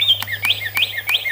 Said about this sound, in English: he's a chirping cat skull